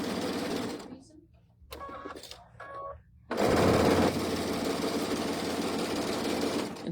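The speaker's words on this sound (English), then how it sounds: "And you're going to sew right on the line" Sewing machine stitching across the corners of a large quilt block: after a few quiet seconds with faint handling sounds, a loud, steady motor whir and rapid needle chatter starts and keeps going.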